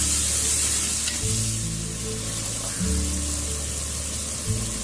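Ginger garlic paste fries with onions in a pot for country chicken biryani, a steady close sizzle broken by several scraping stirs of a spoon.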